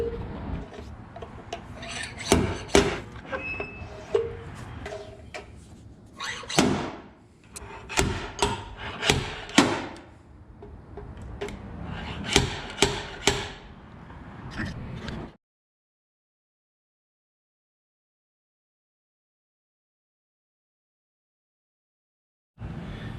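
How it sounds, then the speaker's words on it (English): Bursts of rasping, scraping metal work on a car fender as a dent is pulled out with a stud-type dent puller, repeated irregular strokes over about fifteen seconds, then silence. "we're gonna pull this dent out using the stud puller"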